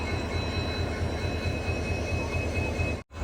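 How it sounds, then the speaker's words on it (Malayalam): Locomotive arriving to couple onto a passenger train stopped at a red signal, heard as a loud, continuous rail rumble that cuts off abruptly near the end. "അങ്ങനെ അതാ ലോക്കോമോട്ടീവ് വന്നിരിക്കുകയാണ്"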